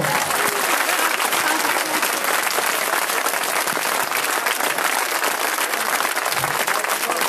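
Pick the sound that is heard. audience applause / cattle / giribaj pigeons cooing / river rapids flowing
audience applause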